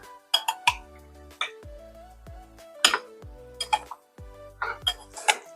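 A spoon mixing tofu in chili sauce, sharp clinks and scrapes against a dish at uneven intervals, close and fairly loud, with no talk.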